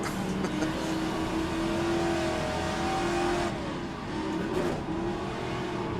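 A classic Trans-Am race car laps Mosport, its loud engine droning close from inside the car, with the pitch falling as the driver downshifts and then picking back up.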